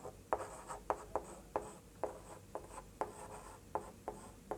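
Chalk or marker strokes on a classroom board while an average problem is worked out, about a dozen short scratchy taps and scrapes in an uneven rhythm, close and fairly quiet with no talking.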